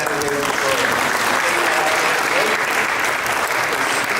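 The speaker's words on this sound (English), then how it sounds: "ladies and gentlemen, a round of applause for the candidates" Loud, steady applause fills a town hall for State House candidates, a dense continuous clatter of clapping from the audience throughout.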